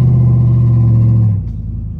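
A modified truck engine fitted with a BTR Truck Norris cam and tuning, rolling in first gear at low speed, gives a steady loud droning rumble for over a second before it drops away into quieter idle.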